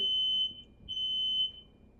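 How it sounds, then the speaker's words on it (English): A fire alarm in an apartment sounds a continuous high electronic tone, fairly faint and steady, with a slight dip partway through and low room noise beneath it; no talking. "We got fire alarms going on."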